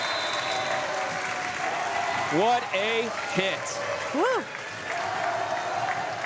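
A home crowd claps and cheers in a gym at a high school volleyball match between South Tama and Montezuma, with steady applause and whoops as an announcer talks over it.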